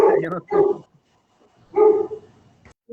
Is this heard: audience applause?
no